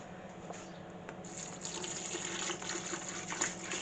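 Over a litre of milk pours steadily into a pot for mac and cheese, a continuous liquid gush that grows fuller partway through.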